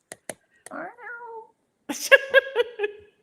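Several cats meow in short bursts, one drawn-out cry followed by a cluster of higher, overlapping meows, close by, with a few soft clicks before them.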